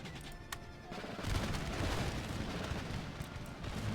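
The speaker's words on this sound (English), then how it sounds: "So let's quick canister fire." Artillery canister volley from a gun battery in the strategy game Empire: Total War, a sharp crack followed by a sustained rolling rumble of fusillade that swells and lingers.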